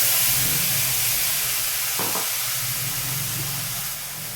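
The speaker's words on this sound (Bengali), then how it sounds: "ফোড়নে দেখো কালো জিরে, আর যেই মশলাটা আমি বেটে রেখে বাটা তোমাদেরকে দেখালাম এইটা দিয়ে দেবো।" Nigella seeds and a ground spice paste sizzle in hot oil for doi begun. The frying hiss is loud, close and steady, and a soft stirring clink comes partway through.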